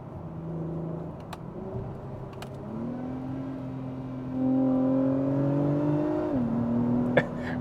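Acura TLX engine in manual mode climbing steadily in pitch toward redline, then briefly dropping as it shifts before holding again; moderately loud interior engine note with a few faint clicks.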